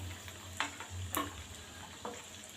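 Beef koftas fry in hot ghee with a steady, dense sizzle and crackle that runs throughout, broken by a few louder pops and spatters, with a low hum underneath and no talking.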